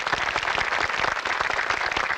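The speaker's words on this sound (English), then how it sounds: "You may applaud it each if you like." An audience applauding members of a delegation, a steady dense patter of many hands clapping together at moderate distance, continuous throughout without talk.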